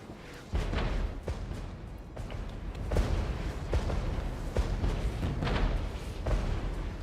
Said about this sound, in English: And then we have artillery coming down right on this position